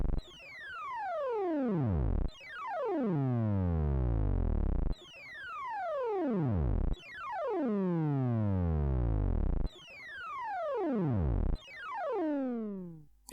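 Synthesized envelope sound made with RDSP on RISC OS, without the XOR effect: repeated clean, steeply falling harmonic sweeps that glide from high to low pitch, each lasting about two seconds, several in a row with no talk.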